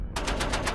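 A Madsen machine gun fires on full automatic in a quick, short burst of about five sharp, evenly spaced shots.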